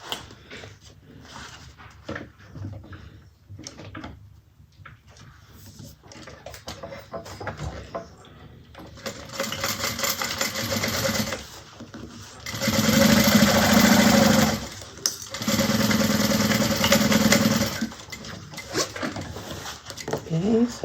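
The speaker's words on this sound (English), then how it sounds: "Okay, so we got one side sewn down." A sewing machine stitches down one side of a Scottie convertible bag, running in two or three loud sustained bursts with short pauses between, preceded by quieter handling and talk.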